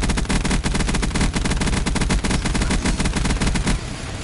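Dense, continuous automatic gunfire from a Black Ops 3 custom match fills the mix, with rapid overlapping shots throughout before thinning out near the end.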